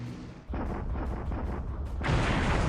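Torpedoes strike and sink a merchant ship in a naval war video game, heard as a run of loud, heavy booms rolling into a sustained roaring rumble of explosion, with no talking.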